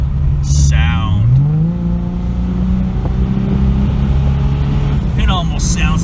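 Deep, throaty exhaust note from a 1997 Ford Thunderbird with custom intake and exhaust, rising as the engine revs and then holding a steady drone, loud and close throughout, with brief bursts of other noise near the start and end.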